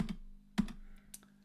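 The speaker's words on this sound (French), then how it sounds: "N'oubliez pas de valider par la touche Entrée du clavier." Key presses on a computer keyboard, including the Enter key, sound as a few sharp, quiet clicks spaced about half a second apart against a faint hum.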